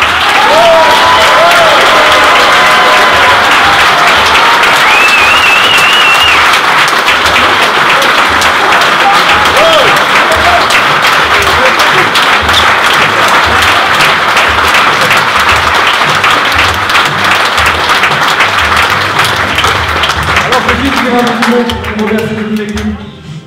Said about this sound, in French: Donc les applaudissements maintenant, c'est pour Bruno.